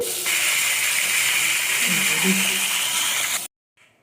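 Steam hisses loudly and continuously from a steamer as the lid comes off Andhra-style thapala chekkalu, then the hiss cuts off abruptly, leaving near silence.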